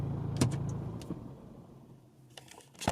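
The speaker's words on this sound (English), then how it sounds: "I'll just turn the car off" A diesel car being switched off, with a brief clunk and rattle followed by a fading low hum that drops toward quiet, then a few faint clicks near the end.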